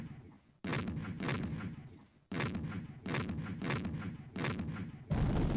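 Cannon fire in the Civilization 2 video game, a run of heavy booming blasts at close range that fill the clip with dense, loud bursts and a brief drop between volleys.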